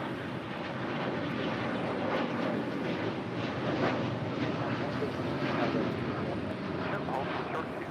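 An airliner's engines roar steadily as it takes off from runway 25 right at LAX, a broad continuous rumble heard from a distance with wind buffeting the microphone and a voice talking over it.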